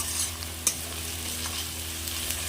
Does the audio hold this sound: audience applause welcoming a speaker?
no